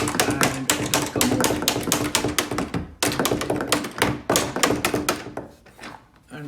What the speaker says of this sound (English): take the screwdriver or any pointy thing and just hammer that pin and it will come